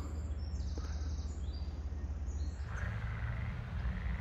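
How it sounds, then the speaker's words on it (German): Toads croaking in a small pond, a continuous low, pulsing chorus heard from a short distance, faint and steady with some higher chirps mixed in. "und der ist auch wieder voller Kröten. Man hört das ganz gut."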